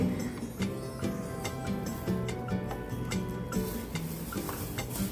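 A spoon stirs about 50 ml of epoxy resin in a mixing cup, giving a steady, close scraping and clinking rhythm that continues without pause and with no talk.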